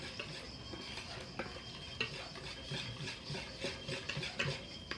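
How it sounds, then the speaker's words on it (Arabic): A hand whisk stirs a flour, sugar and yeast batter in a bowl, giving close, irregular scraping and clicking strokes against the sides, with no talking. "ونحاول نخلطو هكا غير بالطراب اليدوي، نخلطو مزيان حتى ما يبقاش لينا حتى التكتلات"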